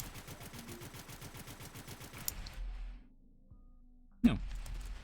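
Rapid bursts of video game gunfire fire homing grenades in a prototype rail shooter, a steady rhythmic volley for about two seconds, then a quiet stretch before one more sharp blast.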